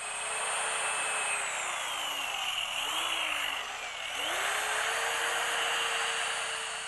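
Power tool sanding an oxidized aluminum car wheel with 80 grit, a steady loud high whine that dips briefly in pitch under load, then resumes.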